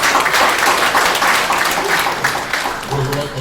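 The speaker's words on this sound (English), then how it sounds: "Please clap" Sustained applause from a crowd, steady dense clapping that slowly tapers, with some voices mixed in near the end.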